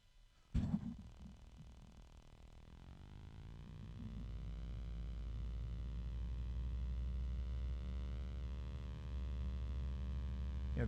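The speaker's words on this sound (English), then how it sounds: "the bearings are pretty noisy" A steady mechanical whir with a rough, grinding rattle from the noisy worn bearings of a Sunonwealth KD1212PTB2 120 mm cooling fan, rising after a brief knock and then holding constant.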